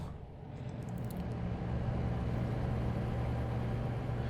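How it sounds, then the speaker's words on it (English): Volvo truck engine in American Truck Simulator, a steady loud low drone with a constant hum running throughout, no talk over it. "the engine of this Volvo is very loud"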